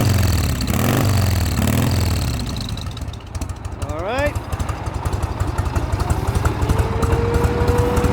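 Engine of a modified 1979 Harley-Davidson FLH Electra Glide Shovelhead runs loud and close with a steady, throbbing low rumble throughout, while a wavering siren rises and falls in the background.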